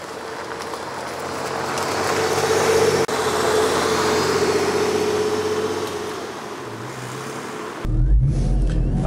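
A Porsche Boxster engine drones steadily while driving, with road and wind noise throughout, ending in a brief louder rumble.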